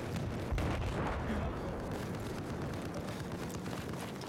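Gunfire and explosions in the video game Battlefield 4, a dense rumbling wash of distant shots and booms with a heavier blast near the start, continuous and fairly muffled.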